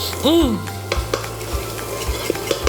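Dried red chili flakes and spices toast in a pan with a steady sizzle, broken by repeated clinks and scrapes of a utensil against the pan, plus a brief squeaky sound near the start.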